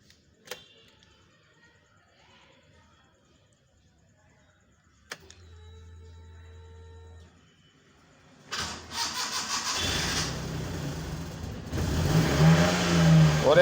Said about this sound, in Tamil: இன்ஜின் நான் ஸ்டார்ட் பண்ண போகிறேன்